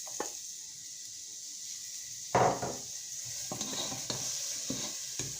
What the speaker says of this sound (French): Vous laissez dorer l'oignon jusqu'à ce qu'il soit translucide pendant 4 minutes maximum.